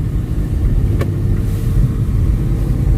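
Steady low road rumble from inside a car driving on a residential route and turning right, a continuous engine and tyre drone with no voices.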